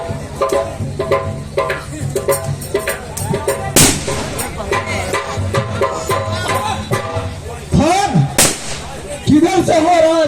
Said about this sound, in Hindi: किधर से हो रहा है फायर?